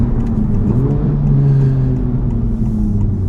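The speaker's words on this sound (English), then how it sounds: "I got to get on the throttle before I go into the gym. So let's go. Second gear." A Honda Civic Type R FL5 accelerates in second gear from inside the cabin, its engine note a loud steady drone that rises in pitch and then holds, with no talk.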